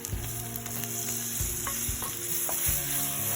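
Tomato cooking in a pan for a spicy pepper mutton roast gives a close, steady sizzle, punctuated by a few dull knocks and scrapes of stirring, with no voices.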